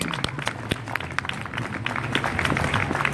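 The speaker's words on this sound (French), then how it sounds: "Je vous demande d'applaudir Thomas" An audience at a music event applauds a man called to the stage with sharp, brisk clapping from many hands, steady and fairly close, building slightly toward the end.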